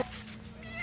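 A voice actor imitates a hungry cartoon cat in a Woody Woodpecker kitchen cartoon with one faint, brief meow over a low background hum.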